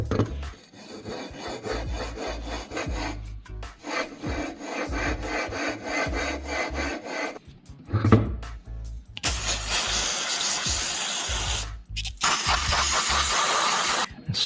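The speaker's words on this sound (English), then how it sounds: "I'll go ahead and lap this flywheel in on here before I mount the coil" Steady rasping rub of a mini bike flywheel being lapped onto its shaft with valve grinding compound, continuous back-and-forth grinding in long close bursts with a couple of brief pauses.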